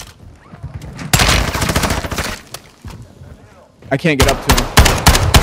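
Heavy video-game gunfire in Squad on the Koochi map, with dense bursts of automatic fire and sharp cracks coming in two loud stretches around a short lull, while players talk over the shooting.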